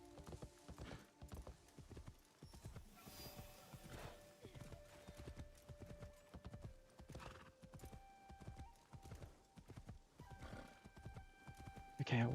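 A horse in Assassin's Creed Shadows trots along with rhythmic clip-clopping hooves and an occasional whinny, set against sustained musical tones, with a player talking at times over the top.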